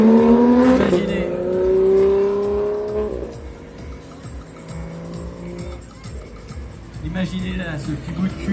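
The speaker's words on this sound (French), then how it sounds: "ce petit bout de cul dans une Lamborghini Revuelto qui subit une accélération" A Lamborghini Revuelto revs hard in a parade, pitch climbing through gear changes before easing, then a second loud burst near the end, under crowd noise and talking.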